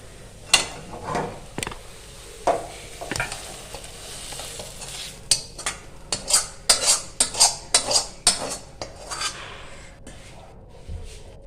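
A spoon scrapes and clinks against a pan and bowl as Malabar spinach stalk and potato chorchori is served, irregular metallic taps growing busier midway over a faint background sizzle.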